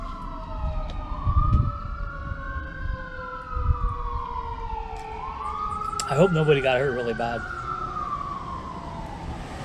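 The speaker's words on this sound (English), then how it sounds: "Should we let those sirens go by?" Wailing sirens rise and fall in long sweeps as emergency vehicles pass at a distance, while a person speaks briefly over them midway.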